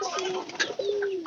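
Pigeons coo at close range in a loft, fed on maize, with two drawn-out warbling calls separated by a brief pause.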